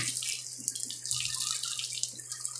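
Water hosed in a steady, hissing spray onto a C22 Vanette pickup truck, close and continuous with splashing patter throughout.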